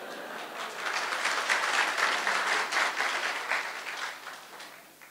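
An audience at a business talk on Indonesia's economy claps in a steady, dense wash of applause that swells, holds, then tapers off, with no voices over it.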